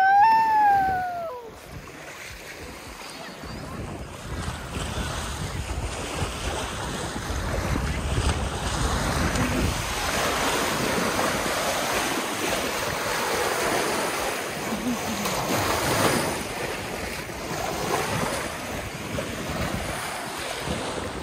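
Rough waves churn on a lake at Palmas, Tocantins, with a continuous loud wash of surf and heavy wind buffeting the microphone throughout, rising and falling in gusts.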